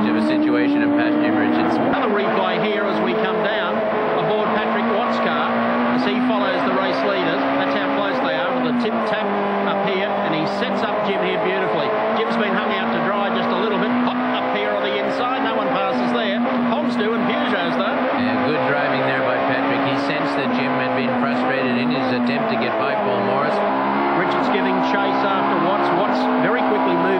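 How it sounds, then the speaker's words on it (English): Onboard a Peugeot touring car racing in 1998 Australian touring cars, the engine screams loud and close with rising and falling revs through gear changes and corners, under continuous race commentary. "Back on board the Peugeot as he homes in on Paul Morris out of turn number 1"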